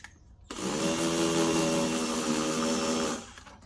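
A steady motorized whine of a drill boring holes in a plastic compost container, running continuously for about two and a half seconds with no talking.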